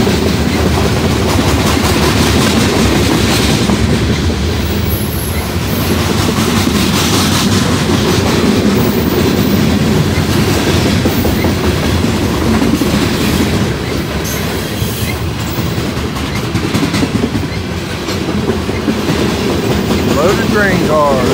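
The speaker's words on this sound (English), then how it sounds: "Train car." Freight train cars roll past on a Norfolk Southern or CSX line, loud and close, with continuous rumbling and rhythmic clickety-clack of wheels on rail joints, a faint wheel squeal near the end, and brief talk underneath.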